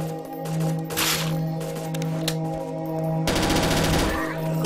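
Rapid weapon fire in the zombie shooter BrainBread 2, quick repeating shots in dense bursts over a steady game hum, loud and close, with a strong flurry near the end.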